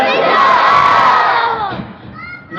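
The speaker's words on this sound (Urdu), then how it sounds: "سارا مجمع اپنے ہاتھوں کو بلند کر کے تاجدار ختم نبوت،" A large crowd gathered in a mosque shouts a religious slogan in unison, loud and close, with raised massed voices swelling then tapering off, alone without other talk.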